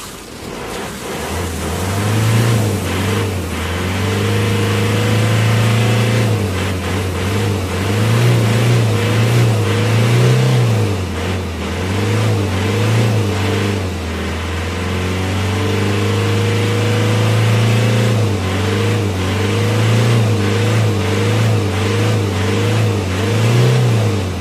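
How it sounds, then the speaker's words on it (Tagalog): An Isuzu Crosswind engine, with a carbon-clogged muffler pipe just cleaned during maintenance, starts and runs steadily, its low idle drone rising and dipping with a few light revs and staying close and loud throughout. "Tapos pa-start mo na ulit itong makina."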